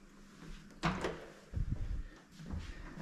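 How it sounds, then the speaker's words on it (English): A hotel room door at a resort in Malta opens and closes, giving a couple of soft thuds and latch clicks with brief shuffling between them, faint and close in a quiet room. "Door, same as any hotel door."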